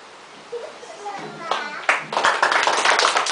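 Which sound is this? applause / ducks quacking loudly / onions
applause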